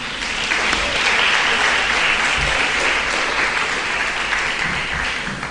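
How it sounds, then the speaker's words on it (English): An audience at a school speech day and prize-giving ceremony claps steadily, a dense, sustained wash of applause, close and loud, with no talking over it. "you can clap for that"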